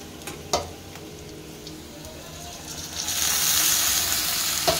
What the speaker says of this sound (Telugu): ఇప్పుడు టమాటా వేసుకుందామండి